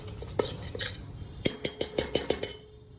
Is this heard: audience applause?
no